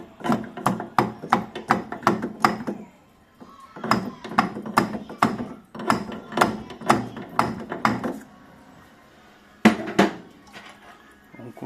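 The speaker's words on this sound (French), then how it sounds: "Donc je vais taper un petit coup." Repeated sharp taps on a plate heat exchanger in a Chappée boiler, knocking it loose, come in quick bursts of about eight strikes with pauses between, close and fairly loud, no talking.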